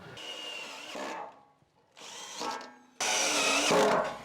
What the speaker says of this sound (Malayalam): ഓരോ ഫീറ്റിലും നമ്മൾ സ്ക്രൂ അടിച്ചു കൊടുക്കണം